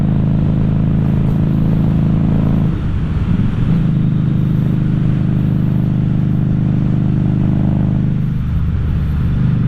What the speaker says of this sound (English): That's why I really want to ride my motorcycle.